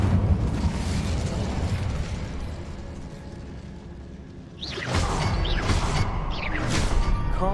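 An Incendio fire spell is cast in a Harry Potter video game, a roaring whoosh of flames and rumbling bursts, then a sharper flurry of fiery crackles and swooshes at close range.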